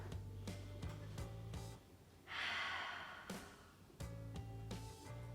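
Deep breathing during a core and hip exercise session, a long audible inhale-exhale rushing close to the microphone, set among quieter steady background tones and soft sounds.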